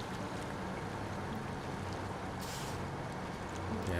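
Water rushing and churning around a truck, trailer and load swept down a river in the off-road driving game SnowRunner, a steady broadband wash heard alone throughout.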